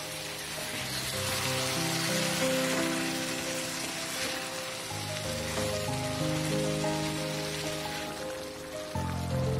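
Chicken pieces cooking over a high flame in a pan for a pomegranate chicken dish, turned and stirred with a spoon; a steady close sizzle with soft clinks runs throughout over faint background music.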